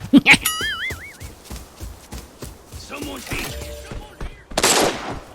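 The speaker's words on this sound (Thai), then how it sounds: "ฉันได้ยินเสียงการประทะกันระหว่างคนกับบอส" Bursts of gunfire from a clash between players and a boss in the Arena Breakout shooter game, with quick rapid shots early and a louder dense volley near the end, mixed with tones and game effects.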